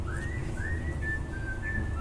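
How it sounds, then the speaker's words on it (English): Someone whistles a few sustained rising and level notes inside a public hearing room, audible over a steady murmur of background room noise. "We don't expect any whistling inside the room."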